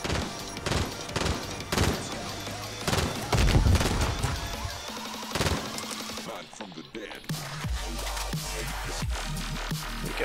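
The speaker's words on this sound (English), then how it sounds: "I'm getting shot" Dense gunfire in the video game Call of Duty: Warzone, with rapid bursts and sharp, loud shots packed close together, while players talk over the fighting.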